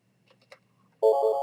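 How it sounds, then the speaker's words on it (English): A mobile phone suddenly rings with a loud, bright electronic tone. The ring follows a near-silent moment broken only by a few faint clicks. "See, my phone just rang, and that wasn't playing."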